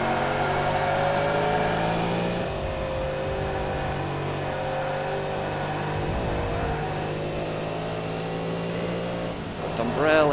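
A V8 Supercar engine drones steadily in the TOCA Race Driver 3 racing game, holding a loud, sustained tone with brief shifts in pitch and a rising rev near the end; a voice talks over it.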